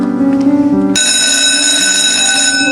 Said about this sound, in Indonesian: Tak berselang lama, lonceng pun berbunyi